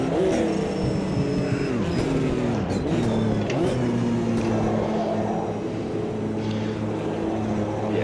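A GTO race car in the Automobilista 2 racing game at Le Mans revs loudly and steadily, its engine pitch dropping and climbing through quick gear changes throughout.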